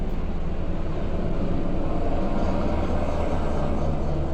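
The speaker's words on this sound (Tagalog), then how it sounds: "Lah, kusugag tingog helicopter anak." A helicopter flying overhead gives a steady, dense rumble that holds at an even loudness throughout, with no voices.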